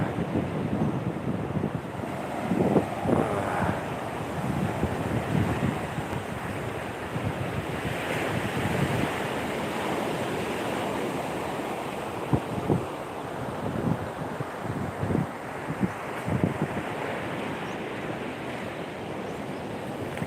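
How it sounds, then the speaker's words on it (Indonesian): Strong Indian Ocean surf rolls onto a wide beach, a continuous roar with breaking waves swelling and crashing at intervals, mixed with gusty wind buffeting the microphone. "ombaknya lumayan kencang karena ombak Samudra Hindia"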